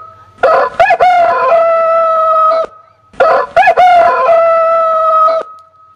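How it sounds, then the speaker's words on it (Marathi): A rooster crows twice, loud and close. Each cock-a-doodle-doo starts with a few sharp, choppy notes and ends in a long, sustained wail, with a short quiet gap between the two calls. "मध्यरात्रीची वेळ, आश्रमाजवळ येऊन इशारा केल्याबरोबर कोंबडा आरवलं."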